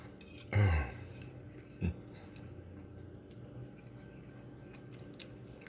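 A bite of sweet potato pie eaten close up, with a loud initial bite and mouth noise followed by a second softer chewing burst, then near silence with faint breaths.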